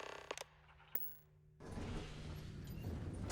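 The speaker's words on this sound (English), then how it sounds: "Open door." A door in Starfield: Shattered Space opens with a mechanical creak and a few clicks. A steady low hum and a broader whooshing ambience take over once it swings open.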